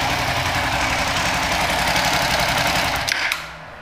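A bore-up motorcycle engine fitted with a racing ECU idles loud and close with a steady, rapid, throbbing beat, then cuts off near the end and the sound drops away.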